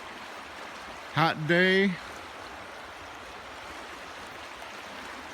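A creek flows beside a picnic area in the mountains of northwest North Carolina, a steady, gentle rushing of water throughout, with a brief spoken remark over it.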